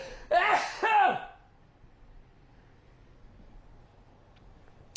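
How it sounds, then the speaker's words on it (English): Two quick, forceful sneezes in close succession, followed by quiet room tone and a faint click at the end. "I know there's another sneeze in there."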